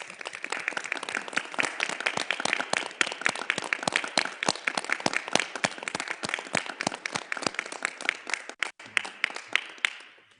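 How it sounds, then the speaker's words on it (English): An audience applauds steadily at the closing of the 15th session of the Intangible Cultural Heritage Committee, with dense continuous clapping that holds at an even level for about ten seconds before tapering slightly. "we all want to applaud you for your work"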